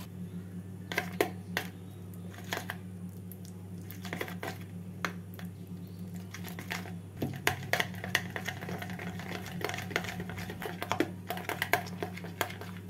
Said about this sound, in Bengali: বাটারটাকে প্রথমে ভালো করে ফেটিয়ে নেব।